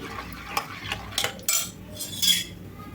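A ladle scrapes and clinks against the side of a pot while mashing cooked dal, with several short, close metallic scraping strokes in an irregular rhythm.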